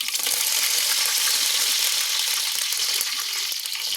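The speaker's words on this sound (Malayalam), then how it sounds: "കടുക് പൊട്ടുന്നുണ്ട്" Mustard seeds splutter in hot oil with onions for a chicken curry. The loud, dense, continuous sizzle is full of rapid crackling pops and is heard close up.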